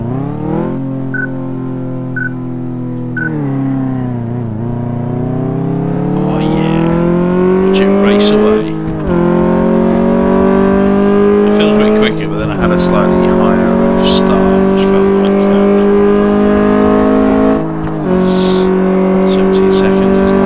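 A car in Car Mechanic Simulator drives toward a test track, its engine droning loud and steady, rising in pitch through several gear changes with brief dips between shifts.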